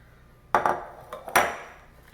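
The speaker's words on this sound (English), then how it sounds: "Bottom to top and stir." A spoon or spatula folds almond lemon cake batter in a bowl, giving a few distinct clinks and scrapes against the bowl in two short bursts, close and fairly quiet.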